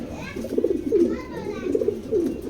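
Male pigeon cooing in a loft, a soft, throaty, repeated coo in low rolling phrases, close by, with faint chirps and other birds in the background.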